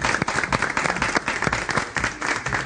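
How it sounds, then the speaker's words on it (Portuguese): An audience claps to welcome a magician onto the stage of a Chilar variety show, a lively burst of dense, uneven applause with a few sharper individual claps standing out. "Um aplauso!"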